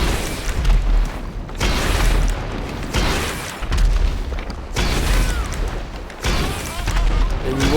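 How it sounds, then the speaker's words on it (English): Rockets are fired in repeated volleys at a jet in a video game, each launch followed by heavy booming explosions that roll on for over a second, in a steady cycle under brief talk. "Just going to keep spamming rockets over that way."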